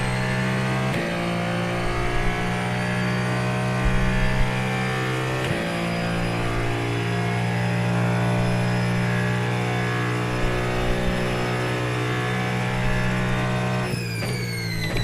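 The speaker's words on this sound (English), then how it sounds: "Love how the engine whines every time I get into the ABS." In the Daytona 24h racing video game, a race car engine holds a steady, loud, whining drone under ABS braking. The pitch dips and resets briefly around a couple of points, and no one speaks.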